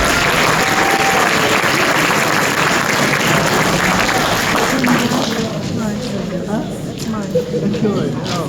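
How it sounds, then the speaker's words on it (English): Audience applause at an African American legislative day event, a dense, steady wash of clapping that holds loud for about five seconds before thinning out, with voices and crowd murmur mixed in. "Give one more applause to our."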